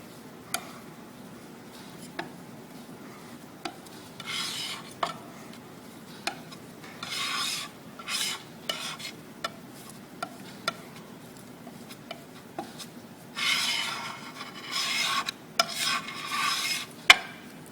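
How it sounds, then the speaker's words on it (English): Palette knife working dry pigment into linseed oil, a soft rasping scrape repeated in uneven strokes with small ticks of metal, close and quiet, with a few louder bursts of scraping toward the end. "Essentially what I'm doing first is just mixing the linseed oil and pigment together with a palette knife"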